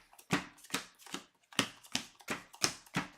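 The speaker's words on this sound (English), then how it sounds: "I'll shuffle my deck again." A deck of game cards is shuffled by hand in a tabletop card game, giving a quick run of about eight crisp riffling bursts, close and distinct, with no voices.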